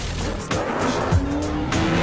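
Tires squeal loudly during a movie car chase along a road, with engine roar and a couple of sharp skids over steady motor noise, close and intense.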